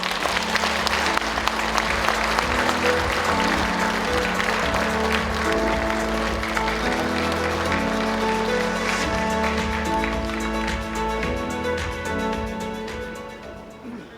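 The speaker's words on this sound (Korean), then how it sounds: "여러분, 윤영호 추진위원장을 큰 박수로 환영해 주시기 바랍니다" A large audience at a peace-forum gathering applauds loudly to welcome the chairman of the organising committee, with sustained clapping layered over ceremonial music that tapers off toward the end.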